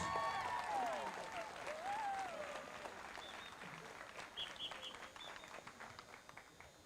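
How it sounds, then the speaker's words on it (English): Crowd at a high school homecoming football game applauding and cheering for the homecoming queen, a fairly distant, steady clapping that gradually fades, with some voices mixed in. "a big round of applause for our homecoming queen, Caitlin Crothers."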